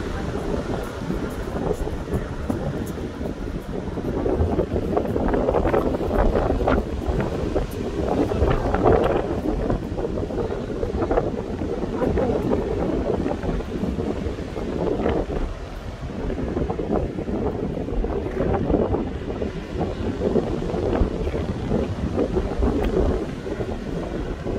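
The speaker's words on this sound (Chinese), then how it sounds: "这边风还是很大，这边的风很大。" Strong wind at the Pacific seashore of Qixingtan Beach in Hualien buffets the microphone in a loud, continuous roar with gusty surges, likely mixed with surf.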